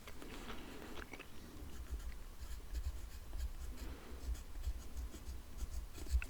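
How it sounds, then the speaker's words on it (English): A pencil colours in a hand-drawn map of Greenland, soft close scratching strokes in a steady back-and-forth rhythm, quiet and intimate with faint gum-chewing clicks. "I'm back and ready to start colouring in."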